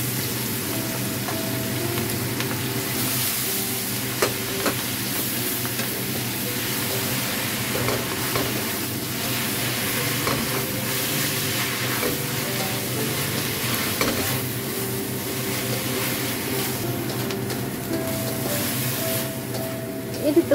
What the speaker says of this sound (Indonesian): Setelah itu ditumis-tumis. Dan sayur kalenya bisa dimasukkan.